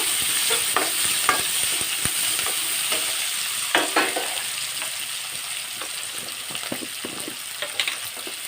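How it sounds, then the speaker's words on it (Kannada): Finely chopped onions with curry leaves fry in a pan with a steady close sizzle, broken by repeated scraping and clicking strokes of a stirring spoon, with no voices. "ಎರಡು ದೊಡ್ಡ ಈರುಳ್ಳಿನ ಸಣ್ಣಕ್ಕೆ ಹೆಚ್ಚಿ ಹಾಕ್ಕೊಂಡಿದ್ದೇನೆ ಇದನ್ನು ಸ್ವಲ್ಪ ಫ್ರೈ ಮಾಡಿಕೊಡುವ"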